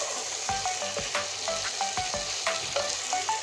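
Fish and potatoes with spices stir-fried in a hot pan for a Bengali curry, a steady close sizzle with repeated scraping strokes of a spatula against the pan, no voices.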